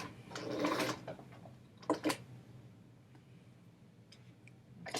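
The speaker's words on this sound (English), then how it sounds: "I'm going to stitch forward until I come near the end of this pin" A sewing machine stitching forward along pinned fabric, a short whirring burst near, then two quick bursts of needle clatter and faint ticks in a quiet room.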